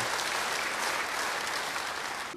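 A church congregation bursts into dense, sustained applause, loud and even throughout, dropping off abruptly at the end with no voices over it.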